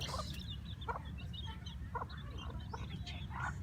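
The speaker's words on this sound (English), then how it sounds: "There's baby chicks." Baby chicks kept in a cage on a rural Philippine farm where hens and fighting roosters are raised, giving soft scattered high cheeps over a steady low rumble of background noise.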